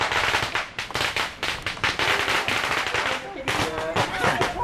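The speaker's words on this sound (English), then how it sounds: "We just went for the fireworks to finish." Fireworks bursting on a Buddhist holiday night, a dense run of loud crackling pops and booms that continues throughout, with voices faintly underneath.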